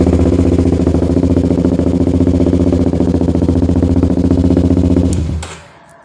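A Kawasaki Ninja 250 SL fitted with a Corse racing exhaust idles steadily and loudly up close for about five seconds, a throaty rapid thrum, then cuts off abruptly and falls silent.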